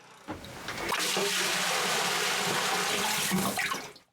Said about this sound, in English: After draining the clothes a bit, I fill the tub again.